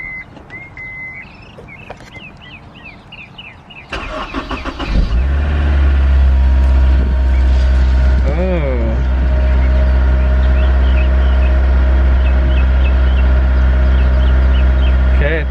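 After some talking, a Honda S2000 engine cranks briefly and fires up, then settles into a loud, deep, steady idle close by.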